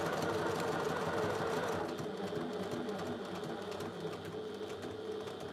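A sewing machine stitches a quilt block in a steady, continuous mechanical whir that runs without a break and stays close and fairly quiet.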